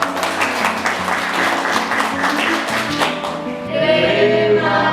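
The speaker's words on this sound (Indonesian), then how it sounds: "Tepuk tangan dulu untuk kalian." An audience at an Indonesian teacher training session applauds with steady, dense clapping throughout, with some other sounds briefly appearing toward the end.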